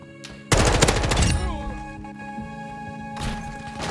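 M4 gunfire in Call of Duty Modern Warfare 2 arrives as a loud burst of rapid automatic shots, followed by a fading tail and another short burst near the end, with someone talking over the game.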